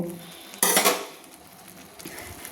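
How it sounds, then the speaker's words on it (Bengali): Boiled cabbage tips into a steel basket with a sudden splashing clatter of metal and water, then a faint trickle and a light knock as it drains. "দিয়ে বাঁধাকপিটাকে আমি একটা স্টিলের ঝুড়িতে, দেখুন এই ঝুড়িতে আমি ছেঁকে নেব।"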